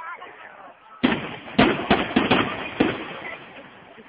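A fireworks display at Villanova di Bernareggio, with a series of sharp, loud bursts and cracks after a quieter stretch, some rapid in succession and echoing outdoors, with voices faintly present.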